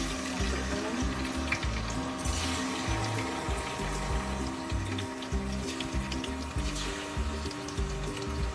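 Turmeric-marinated chicken frying in hot oil, a dense, steady sizzle and crackle close by that runs without a break, with faint clinks in the background and no talking.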